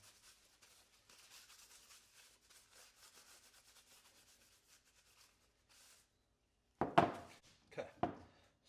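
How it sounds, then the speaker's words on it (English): Grease being wiped off a brake pad from a 2022 Ram 3500 diesel truck: a faint, steady cloth rubbing for several seconds, then a pause and a few louder, sharper scrapes and knocks near the end. "I'm going to go ahead and wipe those off because I'm going to put some new grease on there"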